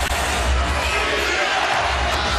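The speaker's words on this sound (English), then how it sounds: "And the crowd still buzzing about this." A basketball arena crowd keeps up a loud, steady roar and buzz after a crossover move and shot, dense cheering with scattered shouts throughout.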